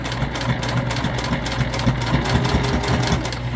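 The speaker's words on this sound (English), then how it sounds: "we're going to go ahead and give that a good stitch all the way down" A sewing machine runs a long seam on a beginner crossbody bag, giving a rapid, even stitching rattle that is steady and close, with no talk over it.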